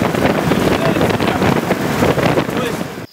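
Steady loud roar of a truck engine and wind rushing in through gaps while riding in Thailand or Cambodia, continuous and dense, cutting off abruptly near the end.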